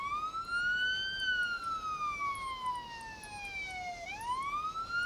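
Police car siren in the video game Police Simulator, a loud, continuous wail that climbs, slowly falls, then sweeps back up, heard alone without voices.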